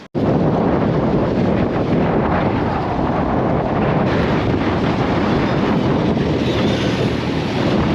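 Strong wind roars continuously and close over the microphone on a sailing boat at sea, with wind against current, forming a dense, unbroken rush with no speech.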